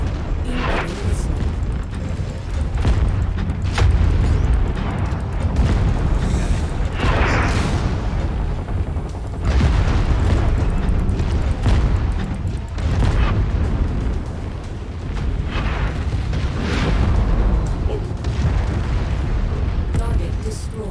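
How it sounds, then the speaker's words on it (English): Incoming missile strikes in the mech combat game MechWarrior 5: Mercenaries, heard as a run of heavy booming impacts and rumbling blasts over a constant low engine drone, with a cockpit voice speaking at times. "Incoming missile."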